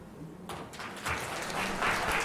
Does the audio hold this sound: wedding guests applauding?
yes